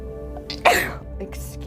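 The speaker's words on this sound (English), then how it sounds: "make a wish on that sneeze" A single sharp sneeze bursts out close by, with brief voice sounds just before and after it.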